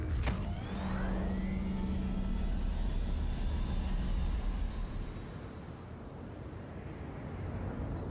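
In the video game Star Citizen, an Origin 300i spaceship lifts off with a rising engine whoosh and sweeping tonal whine over a deep, continuous rumble that gradually eases back.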